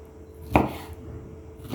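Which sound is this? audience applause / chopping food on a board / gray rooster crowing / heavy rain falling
chopping food on a board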